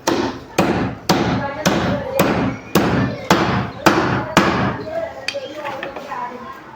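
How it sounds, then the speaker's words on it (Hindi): Washing machine motor bearing gets hammered onto its shaft by striking the outer collar: about ten close, solid, evenly spaced metallic knocks, each with a short ring, then a quieter tail. "बाहर वाली जो कॉलर है बैरिंग की, इस पर आपने ठोक देना आराम आराम से"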